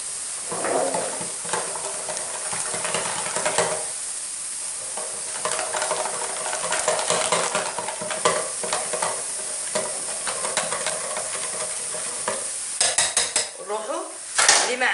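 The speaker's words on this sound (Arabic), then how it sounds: "انا اولا خلط كل شيء" Baghrir batter is stirred and mixed in a bowl, with steady scraping and clinking of a utensil against the bowl, louder clattering bursts near the end, and no talking.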